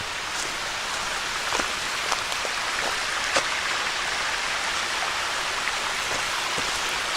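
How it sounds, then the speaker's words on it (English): A small mountain stream in Ricketts Glen State Park, Pennsylvania, runs down toward the glens as a steady broadband rush of water, with scattered close splashes and drips standing out from the constant flow. "One of the streams that flows down into those glens."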